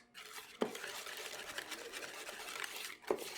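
Keto carrot coffee cake batter with baking soda and cinnamon being stirred in a bowl, a steady scraping, swishing mix with a couple of sharper knocks against the bowl, close and alone without talk.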